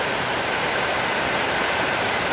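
A heavy rain shower on a Tuesday afternoon, a dense, steady hiss of falling water with no letup, loud and close throughout.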